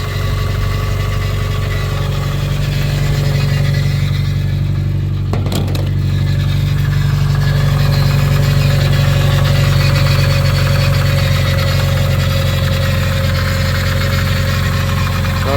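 A Subaru Legacy with a newly installed engine idles steadily and loudly right up close, a constant low rumble with a deep hum and a brief mechanical disturbance partway through.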